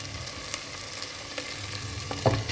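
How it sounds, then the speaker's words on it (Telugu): Goat head pieces frying in hot oil in a cooker while being stirred, a steady close sizzle with occasional scraping clatters, louder near the end. "సో గోట్ హెడ్ కూడా పచ్చివాసన పోయేదాకా ఈ ఆయిల్లో మంచిగా తిప్పాలండి"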